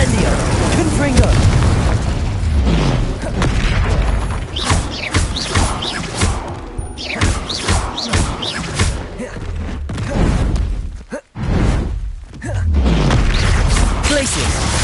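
Explosive Confringo spell blasts go off in the Hogwarts Legacy video game, loud booming bursts and rumbling crashes mixed with creaking mechanical game effects, with a voice talking over them.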